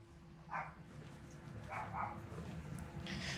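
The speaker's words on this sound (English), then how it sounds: "The only thing I'm hearing is a dog" A dog barks a few times inside a house, heard faintly and muffled from outside over a low steady hum, with short separated yips.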